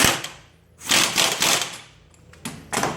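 A new alternator pulley nut being tightened on a Ford 4.6, 5.4 or 6.8 Triton engine gives several loud, close, rattling mechanical bursts separated by short pauses, with no talking.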